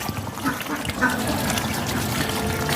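Ducks quack nearby over a steady trickle of water, with a faint voice now and then.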